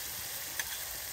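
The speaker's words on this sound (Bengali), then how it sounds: "এবার মশলাটা আমি তেল ছাড়া পর্যন্ত ভালোভাবে কষিয়ে নেবো।" Spice paste mixed with whisked sour yogurt fries steadily in hot oil as it cooks down for a fish curry, a soft continuous sizzle with one small pop, heard alone and fairly faint.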